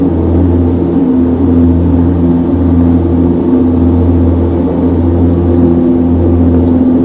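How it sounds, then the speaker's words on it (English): Steady droning engine hum of an airplane lifting off in a flight simulator game, a constant loud tonal rumble with no talking. "Your plane will just lift up on its own"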